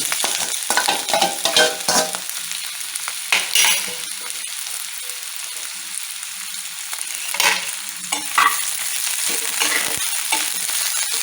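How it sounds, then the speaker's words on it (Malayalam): Mustard seeds crackle and onions fry in a hot pan for a Christmas duck pepper dish, a steady close sizzle punctuated by sharp bursts of popping and stirring, with no voices. "കടുകൊന്ന് പൊട്ടിക്കോട്ടെ ചെറിയ രണ്ട് സവാള എടുത്ത് വെച്ച് വെച്ചിട്ടുണ്ടായിരുന്നു അത് ഇട്ട്"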